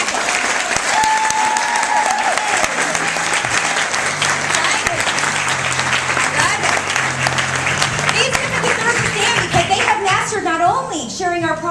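Sustained audience applause from a large crowd at a Mary Kay event, steady and dense clapping throughout with cheering and some voices rising near the end.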